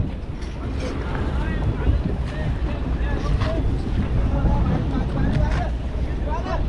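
Fishing net boats motor across the open sea, their rumble blending with gusting wind on the microphone and the wash of waves, while a voice talks over the steady noise.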